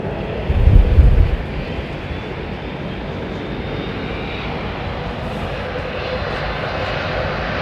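Airliner engines spooling up for takeoff at London Heathrow Airport, a loud deep roar swelling early then settling into a sustained broad engine rush.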